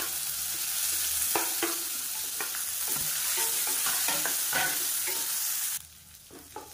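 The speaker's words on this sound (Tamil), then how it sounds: "இப்போ வெங்காயம் நல்லா வதங்கிடுச்சு" Steady sizzling of sliced onions sautéing in hot oil for tomato sambar, with occasional stirring scrapes and clinks, ending abruptly as the sizzle drops away.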